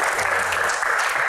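An audience applauds a singer at a Q&A event. Thick, continuous clapping from many hands holds steady and loud through the whole short burst.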